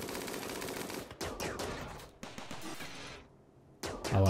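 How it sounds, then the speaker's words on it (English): Steel turrets in the video game Rimworld fire at centipedes in rapid bursts of automatic gunfire, loud and dense, with brief pauses between volleys before the shooting resumes. "only two of our three turrets are actually able to fire at the centipedes"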